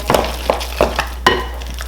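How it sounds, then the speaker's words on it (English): Four or five soft, wet thuds as a spoon stirs creamy garlic mashed potatoes in a pot, each stroke distinct against a steady low background hum. "I'm gonna give this a nice little mix."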